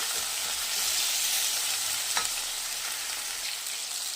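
Tomatoes sizzle in a hot oiled pan for egg masala, giving a steady, bright frying hiss with occasional soft scrapes of stirring, close and alone without talk.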